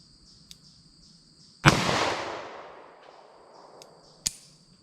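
A 10mm revolver loaded with Hornady Critical Duty ammunition fires one sharp, loud shot at an outdoor range. The report trails off in a long, echoing decay, with faint small clicks before and after.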